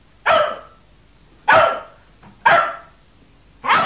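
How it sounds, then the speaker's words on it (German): A dog barks four times alone at close range, with loud, sharp barks spaced about a second apart. "Knuddel, du bist der allerletzte Hund."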